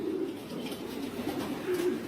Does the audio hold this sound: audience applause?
no